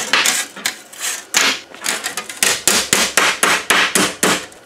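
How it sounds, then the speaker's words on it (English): Rapid series of loud, ringing hammer blows on the sheet-metal firewall of a 1935 Ford truck, about a dozen sharp strikes in a fairly even rhythm, close up. "A few taps with the hammer."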